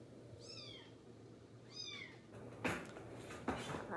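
An orphaned kitten being bottle fed meows twice in high, clear calls, followed by a few soft handling bumps close by, with no talking.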